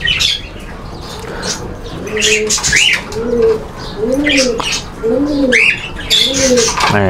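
Pigeons coo in a steady series of rounded, throaty calls close by, with chirps, squawks and a brief wing flutter, while a ring is fitted on a pigeon chick's leg.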